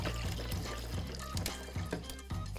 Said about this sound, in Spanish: Ahora le agregaré dos vasos de agua.